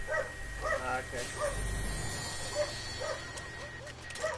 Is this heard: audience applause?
no